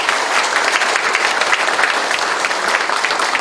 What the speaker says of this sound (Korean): 우리 경찰 지휘부 여러분께도 큰 격려의 박수 한번 다시 보내주세요